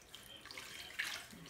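Water poured over a baby in a bath to rinse off soap, a soft, faint continuous trickle and splash like running tap water, lasting about a second and a half with no talking.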